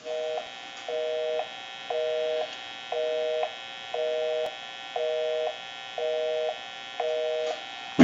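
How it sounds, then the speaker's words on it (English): Busy signal on an AE Space Maker 183 telephone: eight evenly spaced on-off tone bursts, about half a second each, loud and close over a steady background hum, with no talking. "We can call my number and it'll be busy."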